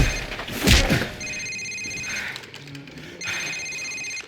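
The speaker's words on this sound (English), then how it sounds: "Sir, it's his cell phone." A cell phone rings during a tense farmhouse interrogation in Call of Duty 4, a repeated electronic ringtone in bursts after a dull thump, with background game noise.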